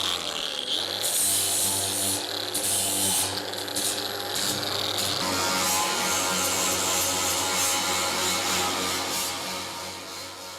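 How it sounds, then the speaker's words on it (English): An angle grinder works steadily on the sheet-metal body of a 1965 Ford Mustang during roof replacement, a close, continuous abrasive whine and scrape that fades slightly toward the end. "Basically, just need to grind up this area right here."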